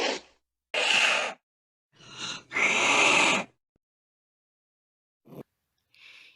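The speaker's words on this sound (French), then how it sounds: "Il feule quand il veut impressionner un adversaire." A domestic cat hisses in sharp, breathy bursts, two strong ones and a couple of shorter puffs separated by silence, close and loud.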